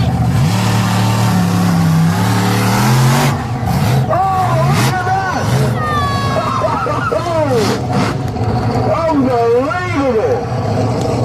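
Monster trucks rev their engines at a show at Donington Park, loud rising and falling engine roars with squealing tonal sweeps, all under constant crowd noise and an announcer's voice.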